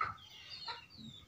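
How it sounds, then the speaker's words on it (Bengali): Chickens cluck softly at a farmhouse at evening, brief close clucks with faint low animal sounds in the background. "হাঁস আছে, মুরগি আছে,"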